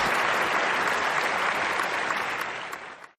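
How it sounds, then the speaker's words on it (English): An audience at the Times Now Summit gives a full round of applause that keeps up steady and loud, then fades and cuts off near the end, with no voices over it. "A big round of applause,"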